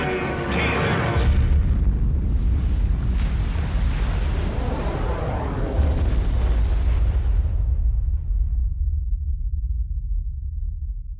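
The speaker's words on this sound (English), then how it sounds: "It explodes with a force of 10 million tons of TNT, 600 times more powerful than the bomb that destroyed Hiroshima." A nuclear bomb test detonation of about ten megatons rolls in as a sustained, loud, deep roar and rumble, a steady wall of low thundering noise lasting many seconds and gradually dulling toward the end.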